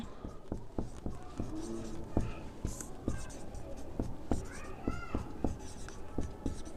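A pen scratching across paper in short, regular strokes, close and clear, while a person talks quietly alongside.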